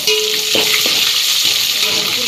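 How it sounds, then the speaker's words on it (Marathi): Large vertically sliced onions frying in a pan while being stirred, a loud close sizzle with scraping strokes of a spatula, continuous and busy throughout. "त्याला आता सगळं आपण हलवून घेऊया असं पूर्ण"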